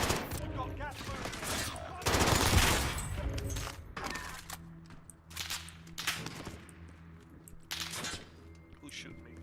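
Gunfire in the Call of Duty video game: bursts of rapid shots and sharp cracks at varying distances, some dense and loud, others scattered, with a voice talking over the fighting.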